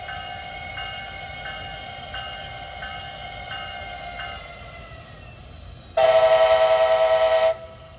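An Amtrak ALC-42 Charger locomotive approaches a station. Faint steady tones are followed by a loud, close horn blast of about a second and a half near the end.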